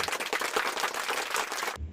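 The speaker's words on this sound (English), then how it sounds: "Give applause." A group of students applauds in a class after a descriptive-text reading. The clapping is dense and continuous for about two seconds, then cuts off sharply into quiet.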